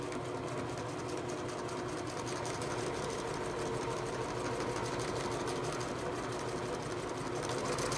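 A sewing machine runs steadily while stitching a photo pillow, its motor hum and rapid needle rattle continuous and close for the whole stretch, with no talking.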